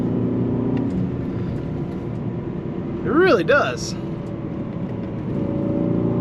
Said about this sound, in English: Sounds pretty good too. It could use a little bit more, you know, exhaust noise.